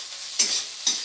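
Egg bhurji frying lightly in a pan, heard as two quick spatula stirs that scrape and rustle over a soft, close sizzle.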